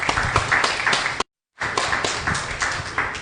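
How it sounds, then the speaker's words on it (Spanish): Close, fairly loud clapping from a group at a humanitarian agenda discussion, distinct individual claps in a brisk patter, broken by a short cut of silence partway through. "Otro aplauso ahí."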